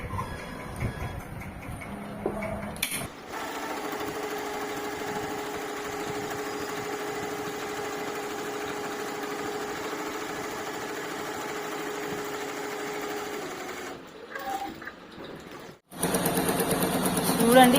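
A computer embroidery machine stitches a simple neck design, giving a steady, close mechanical whir that runs for most of the stretch, with brief pauses and a louder burst near the end.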